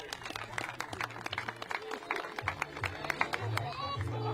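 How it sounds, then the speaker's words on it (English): A crowd applauds a competitor at the All-Star Weekend skills competition, with steady clapping and cheering rising and falling throughout while voices talk underneath. "Give a big round of applause for Henna."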